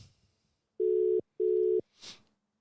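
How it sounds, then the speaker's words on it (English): Two steady, evenly spaced electronic ringback tones from an unanswered WhatsApp call, clear and alone, followed by a brief soft noise. "No, I'm calling him on WhatsApp."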